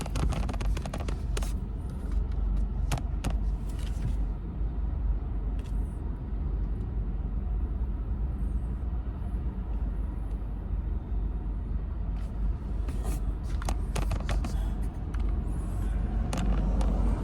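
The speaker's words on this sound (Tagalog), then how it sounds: "Masyadong traffic" Cars crawl through heavy road traffic, heard from inside a vehicle. A steady, muffled low rumble of engines and road noise fills the clip, with a few faint clicks and rattles and no talk.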